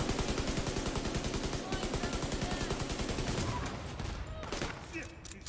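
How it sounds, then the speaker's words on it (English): Rapid automatic gunfire from the video game Division 2 rattles in dense bursts, loud and close, easing into more scattered shots toward the end. "Opening fire."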